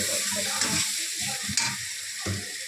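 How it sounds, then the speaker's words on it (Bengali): Spice masala with ground black pepper fries in a pan for a biryani, a close sizzling hiss broken by rhythmic scraping stirs of a spoon against the pan, with no talking. "দিয়ে মশলাটা ভালো করে একটু কষাবো।"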